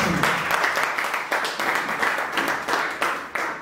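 A church congregation claps together after a prayer, a dense steady patter of many hands with loose rhythmic surges, close and fairly loud, with no voices over it.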